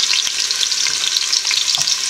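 Onions and meat frying in a pot as the base for a stew, a steady bright sizzle with faint stirring scrapes, close and continuous with no talking.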